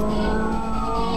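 A police car siren wails in the Need for Speed Most Wanted racing game, a short, loud, sustained tonal blare with engine rumble beneath it.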